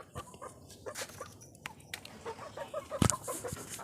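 Soft clucking of a broody hen up close amid quiet farmyard background, with scattered short clucks and a brief sharper squawk near the end.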